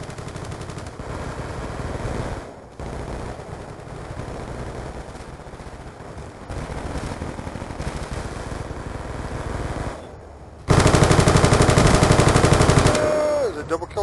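Automatic weapon fire in Call of Duty: Black Ops 2, loud continuous bursts that run nearly the whole time, with one brief pause, then a denser, heavier stretch of shooting near the end.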